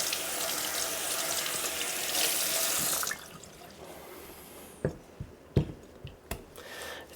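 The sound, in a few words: rinsing Japanese natural whetstone under running tap water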